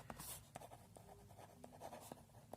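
Marker or chalk strokes on a classroom board during a physics lecture, a run of quiet scratchy squeaks and taps alone with no talk.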